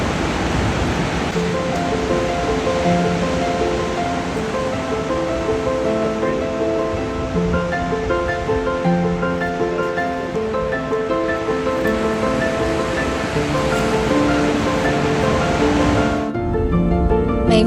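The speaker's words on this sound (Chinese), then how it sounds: "这个在海岸悬崖上横空出现的瀑布，就是大名鼎鼎的 McAvey Fall" McWay Falls pours off a coastal cliff into the ocean on the California coast, heard as a continuous, steady roar of falling water and surf beneath background music, with no talking.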